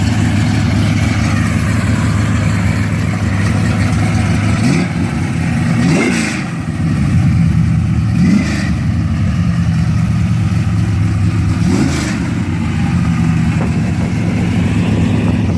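A 1969 Chevelle street-legal race car with a nitrous-fed 505 cubic inch big block revs loudly, heard from outside the car in a residential neighborhood, with a steady rumbling idle broken by several sharp throttle blips.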